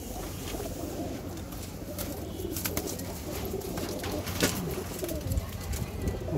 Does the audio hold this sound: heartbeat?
no